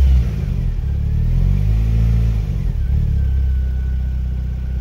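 A Lotus Elan M100 engine idles steadily up close, a loud low rumble with a slight wavering pitch that dips and recovers, running alone without voices.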